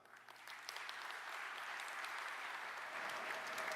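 An audience at a Microsoft Dynamics 365 opening keynote claps in response to a show-of-hands question. The applause starts light, then builds into a steady, distant wash of many hands that fills the hall.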